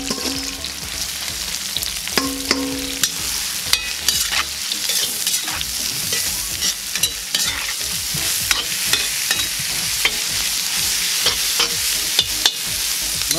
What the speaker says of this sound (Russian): Масло нагрели, лук добавляем.